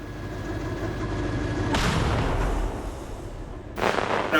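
A loud artillery gun fires once in combat with a sharp, booming blast that rolls on, followed by the start of another heavy report.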